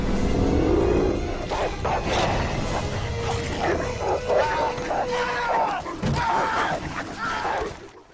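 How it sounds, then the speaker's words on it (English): Dogs attacking a man in a horror film scene, with loud snarling, barking and growling over a continuous rough din, mixed with other voices and cries. "I think he's being attacked by the dogs in this scene."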